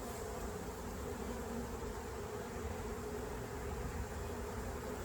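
Honeybees buzz steadily over a crowded hive frame during a hive inspection at a bee yard, a dense, continuous hum close to the frame with no talk.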